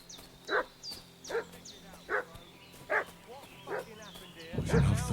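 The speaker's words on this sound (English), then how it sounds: "What's that dog making such a fuss about?" In Kingdom Come Deliverance 2, a dog barks about seven times at a steady pace, sharp and moderately near over a quiet ambient bed, with a louder noise rising at the end.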